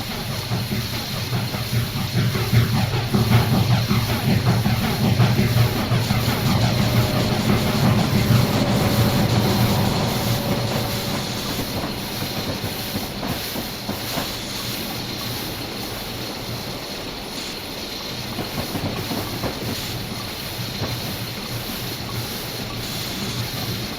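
Pennsylvania Railroad S1 steam locomotive in Train Simulator, a sustained rumbling chug with steady hiss and rhythmic rail clatter, loud at first then easing slightly, heard alone with no talk.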